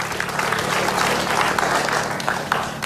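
A studio audience at an Indonesian comedy show claps in a dense, steady wash of applause that holds evenly throughout.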